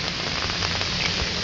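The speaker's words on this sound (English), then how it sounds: "I have my umbrella, it's raining." Steady rain falling during a flood beside a house, heard under an umbrella: a close, continuous hiss of drops pattering on the surface with no voices.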